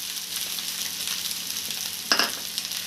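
Vegetable noodles fry in a pan with a steady, soft sizzle, punctuated by a brief, louder scrape of stirring near the end.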